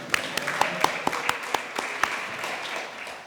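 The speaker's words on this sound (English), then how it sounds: "I hope you get used to the applause" An audience at a design conference claps in a short burst, with distinct sharp hand claps over a softer spread of applause that fades toward the end, heard close and without talk.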